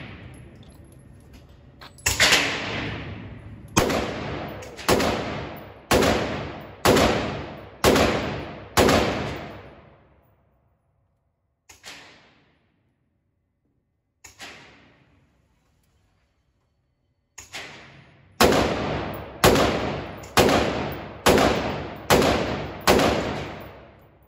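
Gunshots at an outdoor shooting range, loud single shots fired in quick evenly spaced strings with long echoing decays, two isolated shots during a quiet stretch, then another rapid volley.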